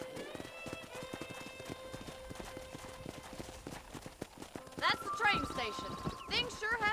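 Rhythmic clip-clop of horse hooves at a steady gallop in Red Dead Redemption, with music playing underneath and a brighter chiming burst near the end.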